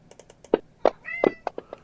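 A house cat meows several times at close range during a tabletop game session, short rising cries with small taps and soft room noise between them.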